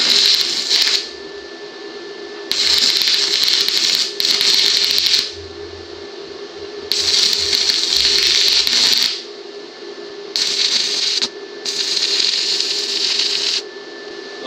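A YesWelder YWA-160 stick welder running a bead on steel, with a steady crackling, sizzling arc in several bursts of a few seconds each, separated by brief pauses, close and fairly loud with no speech.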